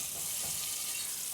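Butter melting in a pan before flour goes in for a roux gives a soft, steady sizzling hiss, close and continuous, with no voices over it.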